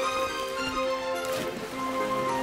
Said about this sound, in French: à chaque fois que je lance Dragon Quest, il pleut tout le temps